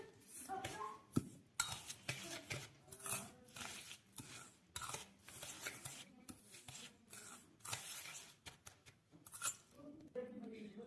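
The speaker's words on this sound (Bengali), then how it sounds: "এবার ভালো করে মিশিয়ে নেব।" A spoon stirs and scrapes sugar through crushed biscuit crumbs in a bowl, making soft gritty rubbing strokes in uneven bursts with brief pauses, close and fairly quiet.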